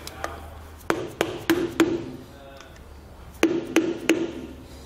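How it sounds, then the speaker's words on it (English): A flat blade screwdriver taps along the outside lip of a Dexter trailer axle hub, two bursts of three or four sharp metallic knocks with a ringing tone and quiet gaps between. "I suggest just grabbing a flat blade screwdriver, kind of tapping along that outside lip, carefully knocking it"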